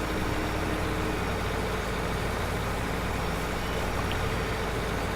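Steady low engine drone of a tractor at work in Farming Simulator 2015, a continuous broadband rumble at constant level with no talk over it.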